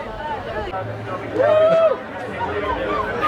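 A growing crowd waits outside a Halloween scare zone at Scarowinds, Carowinds, filling the air with a steady babble of overlapping voices, one nearby voice rising louder for a moment.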